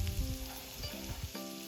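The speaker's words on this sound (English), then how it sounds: "adding some minced garlic to this and fry this well" Minced garlic fries in a little oil in a pan for lemon rice, giving a steady close sizzle with light stirring scrapes and a faint tonal hum underneath.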